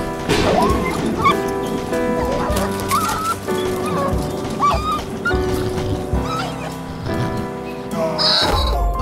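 Dog barking in the Roblox game Brookhaven RP, short yips repeating over a busy music bed and game sounds, with a brief voice near the end.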